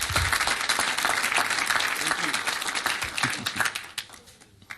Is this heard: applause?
yes